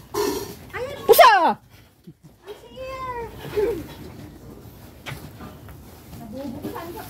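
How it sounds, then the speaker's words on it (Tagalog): A cat meows loudly a couple of times close by, followed by softer mews, with people talking intermittently in the background. "Pusa."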